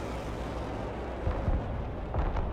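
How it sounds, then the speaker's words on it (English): MLRS rocket artillery fires in the video game Broken Arrow, with a rumbling roar and several low booming thumps rising out of a continuous heavy background. "MLRS ready to fire. Target mark, direct fire."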